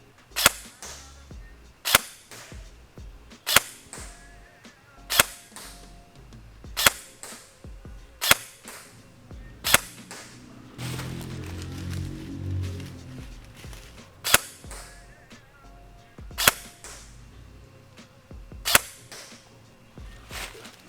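Rifle shots crack out one at a time at irregular intervals of a second or two during a range session sighting in budget optics, each report sharp and loud, with a short low-pitched rustle in between the shots.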